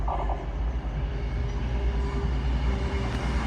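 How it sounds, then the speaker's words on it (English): A five-car Class 221 Super Voyager on a cross-country service passes through Derby station, its steady diesel rumble and rolling wheel noise loud and continuous with no talk over it. "Is the 10:45 cross-country service from Plymouth through to Edinburgh Waverley via Leeds. For just a 5-car Super Voyager."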